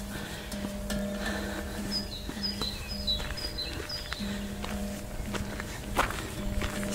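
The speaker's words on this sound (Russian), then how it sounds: "Птицы поют." Birds chirp and trill in short bursts on the fortress ramparts at Würzburg, moderately close, while footsteps crunch steadily along the path and a low steady hum runs underneath.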